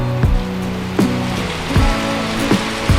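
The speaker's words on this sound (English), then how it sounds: "I showed you the rain coming. Yeah, it's already here." Rain arriving outdoors and pouring down, a dense steady hiss of drops on surfaces, broken by a few louder recurring knocks, with no one talking.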